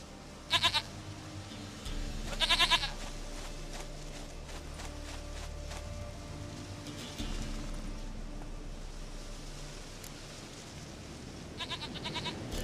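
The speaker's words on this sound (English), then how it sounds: "Goat of mine, dearest, sweetest goat." Goat bleats in The Witcher 3, heard as several short, wavering cries at the start, again a couple of seconds later and near the end, over a quiet steady game ambience.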